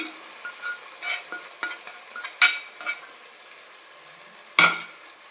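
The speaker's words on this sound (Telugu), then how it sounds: "ఇప్పుడు ఈ రొయ్యలు ఇందులో వేసేసుకుందాము" Raw prawns go into a hot pan with ginger paste and are stirred for a prawn biryani. A low sizzle runs under several sharp spatula scrapes and metallic clinks against the pan.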